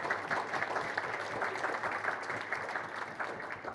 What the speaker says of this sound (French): qu'on peut applaudir pour sa victoire